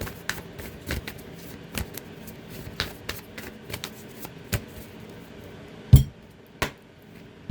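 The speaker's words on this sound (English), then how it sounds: "Get a good shuffle." Sparse crisp snaps and riffles of tarot cards being shuffled, scattered and irregular, with a few louder thumps near the end.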